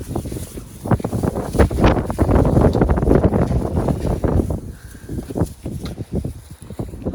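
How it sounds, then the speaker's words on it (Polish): Strong gusty wind buffets the microphone outdoors, loud irregular roaring blasts that rise and fall throughout, with no other sound standing out. "A wieje jak cholera, coś dzisiaj."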